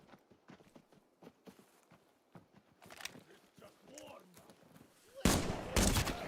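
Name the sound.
gunfire while shooting scouts in a video game (Arena Breakout Infinite)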